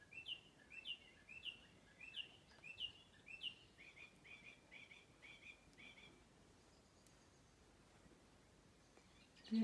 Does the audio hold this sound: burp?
no